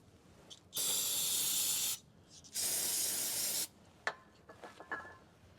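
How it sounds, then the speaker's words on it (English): Carb cleaner aerosol sprayed onto the shock absorbers of an International Scout II: two loud, steady hissing bursts about a second each with a short gap between, then a few faint clicks and light handling noises. "And I'm using carb cleaner because it's kind of the same stuff, I think."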